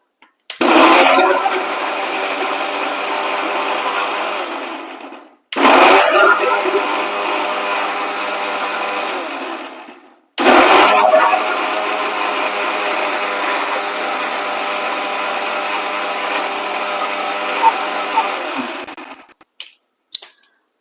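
A kitchen blender grinds tomato, garlic and ginger into a paste in three loud, close bursts, each a steady whirring roar that stops abruptly with short silent gaps between runs.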